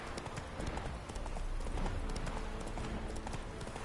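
Horse hooves clip-clopping in The Witcher 3 video game, a dense, steady trotting rhythm that fills the scene with a busy game soundscape underneath, no talk over it.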